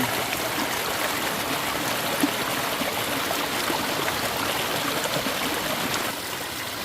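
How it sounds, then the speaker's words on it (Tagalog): Spring water wells up from underground and flows with a steady, broadband rushing and trickling that stays constant and fairly close throughout. "dito po nang gagaling yung aming mga tubig. Ayan oh. Sa ilalim po ng mga lupa"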